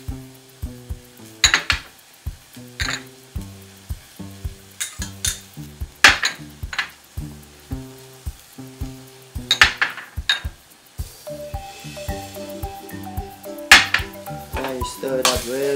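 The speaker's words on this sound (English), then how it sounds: "Stir it up really good" Meat and sauce being stirred in a hot pan for Thai pad kra pao, rhythmic spatula scrapes and clanks against the pan over a constant sizzle, close and fairly loud.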